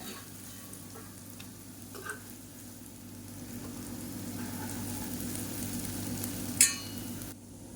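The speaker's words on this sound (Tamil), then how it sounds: "ஓரளவுக்கு ஒரு அரைப்பதமாக வறுத்து எடுத்துக்கலாம்" Raw banana chops frying in oil in a kadai, a quiet steady sizzle with occasional soft clinks from stirring and a brief sharp tap near the end.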